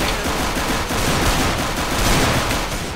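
Rapid pistol fire in a CS:GO match on the Overpass map, a dense, continuous burst of close, loud shots running the full length with no talk.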